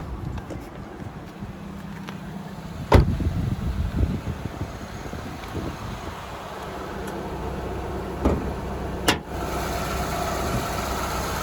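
A 2018 Nissan X-Trail ST seven-seater running with the bonnet open, a steady close engine hum with fan whir and some wind buffeting on the microphone, and a few sharp knocks and clicks over it.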